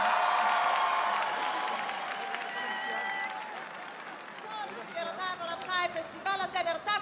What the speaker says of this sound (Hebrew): אני חושבת שמגיע להם כפיים